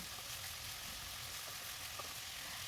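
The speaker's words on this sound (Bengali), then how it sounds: "আর প্যানে তেল দিয়ে মাংসগুলো ভেজে নিচ্ছিলাম।" Meat frying in oil in a pan for chicken biryani gives a steady, faint, even sizzle with a few small crackles and no talking.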